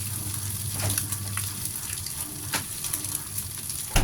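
Wide rice noodles being stir-fried in a hot pan for a simple breakfast dish, a steady close sizzle broken by a few scraping stirs and taps of the spatula.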